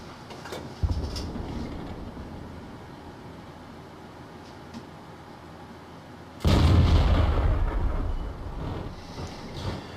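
AT7 tank destroyer gun in a video game firing, a sharp blast near 0.8 s and a heavier, booming shot around 6.5 s. Each is followed by a rumbling tail, with low battle noise in between.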